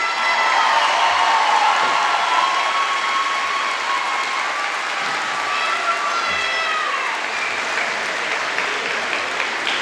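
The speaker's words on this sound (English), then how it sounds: "Let's give another big round of applause for Wyatt" A crowd at a high school graduation claps steadily for a graduate, a dense, sustained round of applause that fills the room for about ten seconds without fading.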